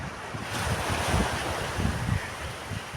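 Morning ocean waves break and wash onto the shore, a continuous rushing surf heard close and fairly loud, mixed with steady wind buffeting the microphone.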